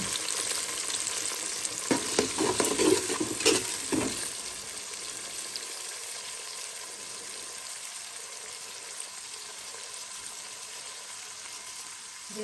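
Tomato, green chilies and salt frying and being stirred for a Bengali chicken curry with potatoes, a steady close sizzle with a few sharp scraping stirs early on, then an even frying hiss.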